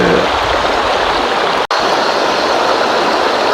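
A mountain stream in Üzümdere National Park rushes continuously, a loud, steady wash of flowing water with a split-second dropout midway.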